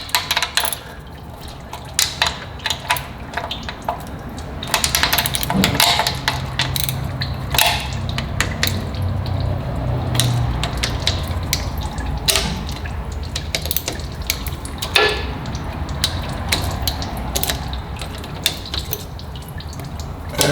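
A worn ratchet wrench turns bolts on a Nissan Titan transmission pan, giving repeated clicking ratchet bursts and metallic clinks over a steady dripping, trickling background of draining fluid.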